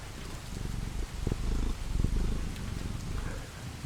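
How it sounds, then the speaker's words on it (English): A fluffy Maine Coon cat purrs close to the microphone with a soft, rhythmic, low rumble that swells and eases over a few seconds, with no talking. "Get some purrs in the mic."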